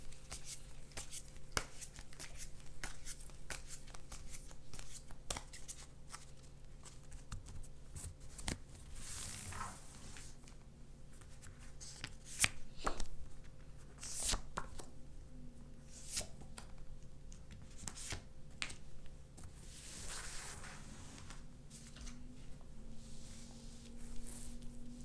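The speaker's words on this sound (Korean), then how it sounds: "카드 셔플 할게요." Tarot cards being shuffled by hand at close range, a run of soft riffling, sliding and tapping sounds that continues steadily and quietly, with no talking.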